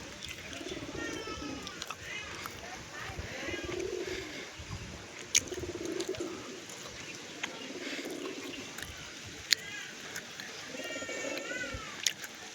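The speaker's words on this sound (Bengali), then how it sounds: "খুব সুন্দর পায়রা এটা, ঠিক আছে?" Pigeons coo in low repeated bursts at a loft, with faint cat-like meows, scattered bird calls and a couple of sharp clicks over a steady background hiss, no talk.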